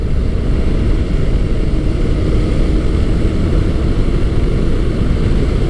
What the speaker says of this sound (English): that torquey engine just moves you right up to the next corner